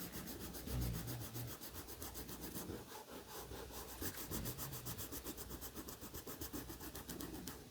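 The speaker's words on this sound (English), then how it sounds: "I'm going to lightly erase all of my pencil marks." A pencil eraser rubs out marks on paper in quick, faint back-and-forth strokes, a soft continuous scratching close to the ear with no voices.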